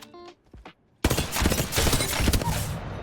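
The Hemlock rifle fires in Apex Legends as a loud run of rapid gunshots, kicking in sharply after a short quiet stretch that holds a few faint game sounds.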